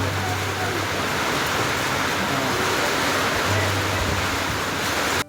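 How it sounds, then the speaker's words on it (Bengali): Heavy rain driven by wind pours down in a dense, continuous roar that stays loud and steady throughout. "বৃষ্টিটা খুব জোরেই হচ্ছে আর সঙ্গে হাওয়াও দিচ্ছে"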